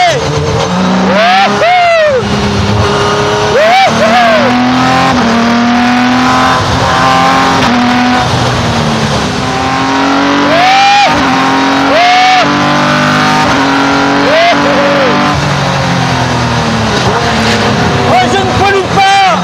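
A race car on a circuit weaves to warm its tyres, the engine revving up and down repeatedly, loud and close, with gear changes and engine droning throughout.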